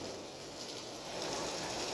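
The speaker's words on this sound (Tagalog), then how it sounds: "tuloy-tuloy pa rin yung buhos ng ulan" Steady heavy rain pours outdoors during a typhoon in Marikina, a faint, even broadband hiss that swells slightly toward the end, with no talk.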